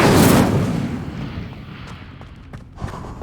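An Incendio fire spell cast in the Hogwarts Legacy game on PC: a loud, rumbling whoosh-boom at the start that fades into a crackling tail with a few faint pops.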